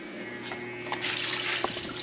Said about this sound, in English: So we're gonna add a cup of water here.